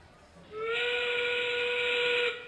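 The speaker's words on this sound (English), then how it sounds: "They were just waiting for the whistle." A referee's whistle starts a round of a high school robotics competition match in a busy arena, sounding as one loud, sustained high-pitched blast held for nearly two seconds above a faint crowd hum.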